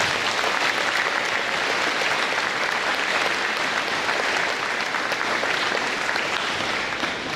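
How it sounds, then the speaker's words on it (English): Sustained audience applause fills a high school graduation ceremony for the class of 2023, a steady dense wash of clapping from a large crowd that holds evenly throughout without any speech. "So let's give them a big round of applause."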